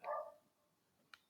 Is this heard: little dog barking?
yes